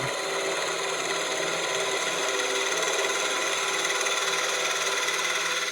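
Half-inch spindle gouge cutting a spinning wooden box blank on a lathe, a steady broadband scraping hiss that runs unbroken and fairly loud throughout, with no talking.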